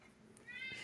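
A cat in heat lets out a rising, drawn-out meow near the end, fairly faint and heard alone after a quiet stretch.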